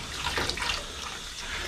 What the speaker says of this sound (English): I just like to spread these out, kind of let them go underneath the faucet like this